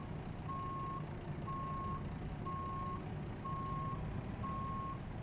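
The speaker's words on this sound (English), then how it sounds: "I'm driving, you can hear it. It's a truck." Truck reversing alarm in American Truck Simulator, five evenly spaced beeps repeating steadily over a constant low engine rumble.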